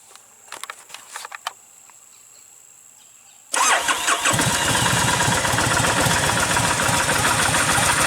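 An engine with 19,000 original miles cranks over and catches after a few quiet clicks, then settles into a steady, loud idle that runs alone to the end.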